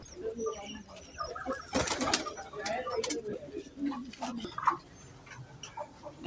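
Teddy pigeons in a busy bird shop coo repeatedly, with scattered wing flaps and chatter from other birds close by, while people talk throughout.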